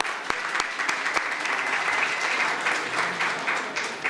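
An audience at an event breaks into steady clapping for the partners and organizers, a dense wash of applause with a few sharp close claps near the start, lasting throughout.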